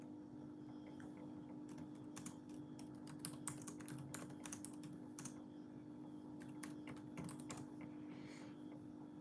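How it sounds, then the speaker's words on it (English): Rapid typing on a computer keyboard, a steady stream of light, close key clicks in irregular bursts over a low constant background hum, with no speech. "I was typing too fast"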